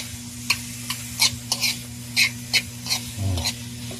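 Dried fish seasoned with salt and MSG is stirred in a hot pan. Repeated scraping strokes come at an uneven rhythm over a constant sizzle, close up and without speech.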